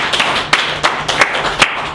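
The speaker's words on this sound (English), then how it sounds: "Round of applause for Tina, please." A group applauding, steady dense clapping with a few louder claps standing out.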